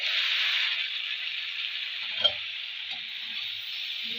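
Spring onion and potato fry sizzles steadily in a pan, a continuous bright hiss with one brief scrape of stirring partway through; no voices.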